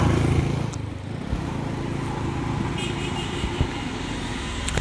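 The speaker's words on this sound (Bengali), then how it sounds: "ফাঁস করে একটা মোটরসাইকেল গেলে দাদু।" Motorcycle engine droning past on a village road, loud and close at first then easing off into a steady rumble with other road noise.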